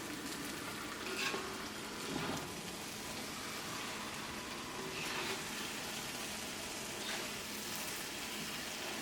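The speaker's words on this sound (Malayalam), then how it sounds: "ഇതെല്ലാം കൂടിയിട്ട് ഒന്നുകൂടി ഒന്ന് മിക്സ് ചെയ്യാം." Kappa biriyani sizzles steadily in a pan as it is stirred and mixed, with soft scraping strokes recurring every couple of seconds over a continuous frying hiss, close and moderately quiet.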